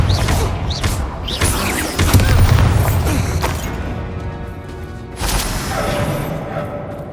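Confringo blasting curse explosions in Hogwarts Legacy: loud booming impacts with crashing debris and thuds, a heavy burst early, then a sustained rumble and another blast later, all in a dense game soundscape.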